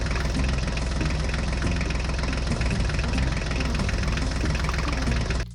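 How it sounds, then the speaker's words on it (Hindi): John Deere and Ford mini toy tractors run with a loud, steady mechanical engine-like drone and rattling vibration, continuous and close, cutting off abruptly at the end. "चलो ड्राइवर, जॉन डियर और फोर्ड ट्रैक्टर को लेके चलो, हमें तालाब के पास जाना है।"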